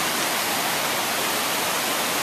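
A waterfall beside a hiking trail on the Mt. Hood loop in the Columbia River Gorge roars as a steady, dense rush of falling water that fills the scene.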